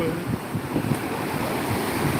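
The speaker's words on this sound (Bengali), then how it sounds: "সমুদ্র সৈকতে এখন হাওয়া হচ্ছে" Steady wind roaring across the open beach at Digha Mohana, with the low rumble of surf underneath; continuous and fairly loud, no voices.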